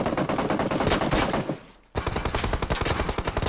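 Rapid automatic gunfire rattles loudly in PUBG Mobile as shots target a car's tires, bursts running almost continuously with one brief lull before resuming in dense volleys.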